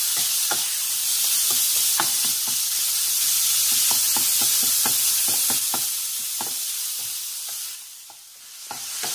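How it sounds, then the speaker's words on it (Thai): Pork stir-frying in a pan for a mushroom spaghetti dish: a steady close sizzle and hiss with repeated sharp scrapes and taps of a spatula against the pan, no talking. "ให้หมูสุกนะครับให้หมูพอสุกก่อนนะครับ"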